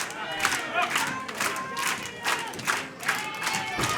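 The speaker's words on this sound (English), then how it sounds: "The crowd here in Lawrence continuing to fire up with the assistance of Cash McGinnis." Wrestling fans at a Chaotic Wrestling show in Lawrence clap in a steady rhythmic beat, loud and close, with cheers and shouts rising between the claps.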